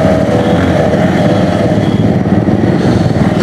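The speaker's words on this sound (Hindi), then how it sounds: "बाइक स्टार्ट करने का तरीका" A motorcycle engine runs loud and close on a Sunday group ride, a steady, throaty idle rumble with no clear revving surges, and nobody talking over it.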